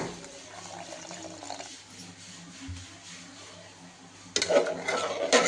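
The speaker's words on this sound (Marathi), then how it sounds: "आता मी थोडंसं पाणी टाकते, त्याचे 1 ग्लासभर पाणी टाकते शिजायसाठी" About a glassful of water poured into a pot of cooking keema, a soft liquid splash and stir heard alone, growing louder and fuller toward the end.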